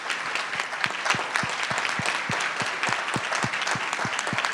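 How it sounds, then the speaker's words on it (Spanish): An audience at a literary event applauds steadily, a dense run of claps from many people, fairly loud and even throughout with no voices over it. "hoy me gustaría que nosotros aplaudiéramos a todos estos lectores que han formado parte de esos clubes"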